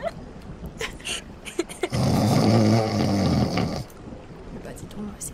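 A character snoring in the Roblox Brookhaven game during a camping-themed horror roleplay: one long, loud, raspy snore lasting about two seconds, framed by quieter scattered sounds before and after.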